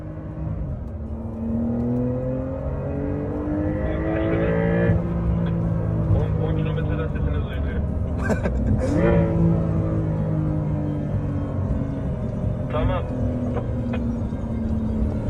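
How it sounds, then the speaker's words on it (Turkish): A rear-wheel-drive Porsche 911 Carrera GTS Cabriolet cruising on the road, its engine a steady low drone with rising and falling revs heard from inside the car, under constant road and wind rumble, with speech over it. "Evet şimdi 911 Carrera GTS'in içindeyiz. Arkadan itişli versiyon bu arada."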